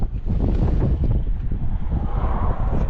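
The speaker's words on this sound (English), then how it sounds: "It's pretty windy up here." Strong wind gusting and buffeting the microphone on a high roadside stretch during wildfire season, a steady loud rushing roar with no talk.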